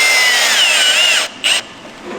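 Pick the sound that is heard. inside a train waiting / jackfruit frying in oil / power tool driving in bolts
power tool driving in bolts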